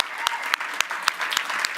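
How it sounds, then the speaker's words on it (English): A church congregation applauds mothers at a Mother's Day service, a brief burst of clapping with a few sharp, evenly spaced claps standing out over a softer wash of hands, moderately loud and close. "Can we give these ladies a round of applause?"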